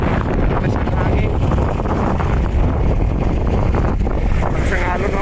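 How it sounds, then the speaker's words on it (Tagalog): Strong wind roars across the microphone aboard a fishing boat at sea, a steady loud rush with faint voices underneath throughout. "Takas ang hangin."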